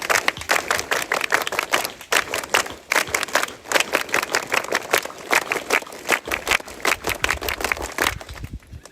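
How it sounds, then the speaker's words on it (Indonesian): A scout group at a Pramuka camp ceremony claps in unison, sharp rhythmic bursts of many hands repeated in patterned sets, fairly close and lively with faint crowd noise beneath. "3 kali tepuk pramuka."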